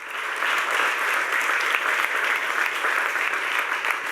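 Congress audience applauding at a closing farewell, sustained dense clapping that holds steady and fairly loud from start to finish without voices over it.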